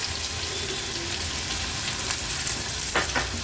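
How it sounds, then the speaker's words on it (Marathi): Chopped large onion hits a crackling tempering of asafoetida and bay leaves in a hot pan, producing a loud, steady, close sizzle and spatter throughout with no voices. "फोडणी आपली छान तडतडली का मोठ्या साईजचा कांदा चिरून घेतलाय तो ऍड करूया"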